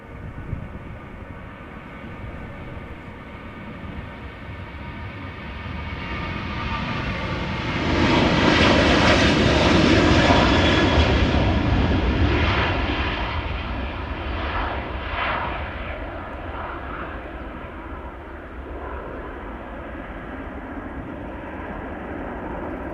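A 14-year-old Boeing 737-800 jet passes at Amsterdam Schiphol Airport. Its loud engine roar swells to a peak near the middle, then slowly fades, with no talk over it.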